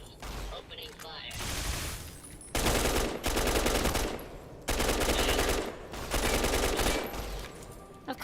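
Sustained automatic gunfire in Fallout Tales of Two Wastelands, loud, dense bursts running several seconds each with brief pauses between, close and continuous, with no voices over it.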